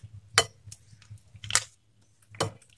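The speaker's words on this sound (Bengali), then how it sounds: "সমস্ত আইস কিউবগুলো আমি এর মধ্যে দিয়ে দেব।" Ice cubes dropped into a bowl of washed, soaked potato slices for homemade chips. They land in three or four sharp clinks with soft knocks between them, close and fairly quiet.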